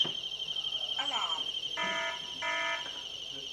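A Hikvision indoor alarm siren sounds a tamper alarm: a shrill, steady high-pitched tone runs throughout, with brief pulsing beeps layered over it and a voice talking faintly underneath.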